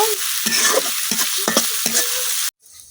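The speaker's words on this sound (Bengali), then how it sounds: "এখন আদা রসুনটা কিছুক্ষণ বাজে ভাইয়া কাঁচা গন্ধটা যাওয়া পর্যন্ত" Ginger garlic paste frying in a pan while making a tomato and puti fish bhuna in a village kitchen: a dense, loud sizzle broken by stirring scrapes that stops abruptly near the end.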